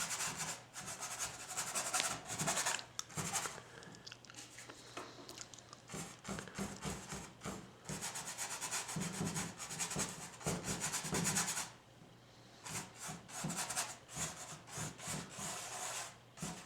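A cheap paintbrush rubbed hard across a painting while glazing and scumbling, a steady scratchy rasping of bristles in repeated strokes with brief pauses, close and fairly quiet.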